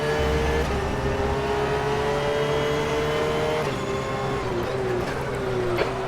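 A race car engine in a sim racing video game drones steadily with a high, sustained whine, its pitch dipping and rising slightly as it gains on another car, loud and continuous with no speech.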